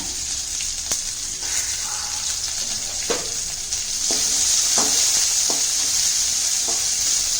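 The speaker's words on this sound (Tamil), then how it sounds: "வெங்காயம் போட்டுடலாங்க பச்சை மிளகா கருவேப்பில எல்லாம் போட்டுடலாம் போட்டுட்டு இதை நல்லா வதக்கி விடலாங்க" Onions, green chillies and curry leaves sauté in hot oil in a pan for pongal, giving a continuous close sizzle with several scraping stirs of a spatula, no talking.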